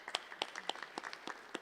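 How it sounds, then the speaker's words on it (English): Sparse, faint clapping from a small press-conference audience honouring founding organizations of a peace collective, a handful of separate claps at an uneven rhythm, quiet and thin. "Give yourselves a round of applause, these founding organizations."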